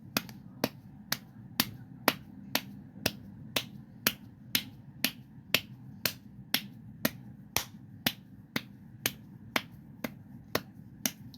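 Rhythmic patting on skin during a meridian massage, about twenty crisp slaps at an even, steady pace, close and distinct over a quiet background.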